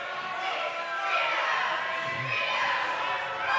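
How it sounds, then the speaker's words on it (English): A steady wash of crowd noise fills a high school boys basketball gym, a broad murmur of voices and shouts with no clear breaks, moderately loud throughout. "Crowd is getting picked up in the mic pretty strong tonight"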